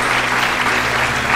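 An audience at a devotional singing stage show breaks into loud, dense applause, the clapping sustained and even throughout.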